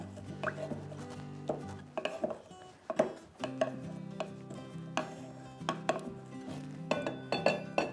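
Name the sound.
muddling ginger slices with ginger simple syrup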